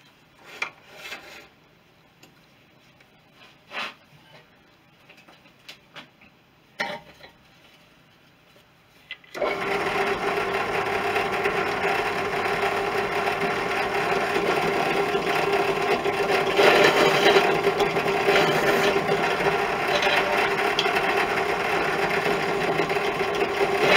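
A drill deburring a universal front mudguard for a Suzuki GT380 motorcycle: light scattered taps at first, then a steady, continuous whirring grind that runs unbroken for the rest of the stretch.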